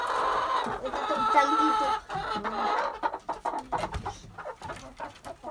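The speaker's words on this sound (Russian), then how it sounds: "Там всегда петух, ему, наверное, там нравится жить." Laying hens cluck busily in a coop with a rooster among them, a close chorus of overlapping clucks and squawks that thins into scattered short calls, while a person says a few words.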